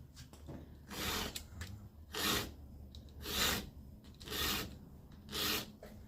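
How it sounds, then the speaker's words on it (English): A hand file sharpens a chainsaw chain in five slow, even rasping strokes, each about half a second long, separated by short pauses and heard close up. "You only need to do a couple of strokes, so don't worry about trying to do too many."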